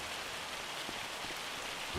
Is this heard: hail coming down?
yes